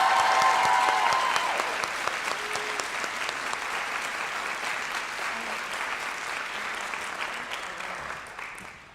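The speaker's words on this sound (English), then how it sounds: "Can we have another round of applause for our award recipients?" Another round of audience applause for award recipients at a nurses pinning ceremony, a broad steady roar of clapping from a sizable crowd that gradually fades toward the end.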